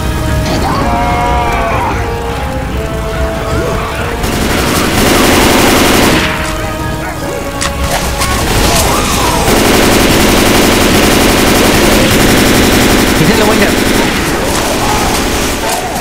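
Dense automatic and rapid gunfire in the co-op zombie shooter Left 4 Dead 2, a survival barricade round, rattling almost continuously at full loudness with brief lulls, and players talking over the shooting.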